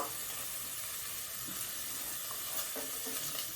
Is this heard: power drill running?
no